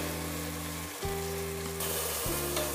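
Chopped onions and ground masala paste sizzle loudly in hot oil for chicken biryani, a dense, steady frying hiss broken by a few stirring shifts.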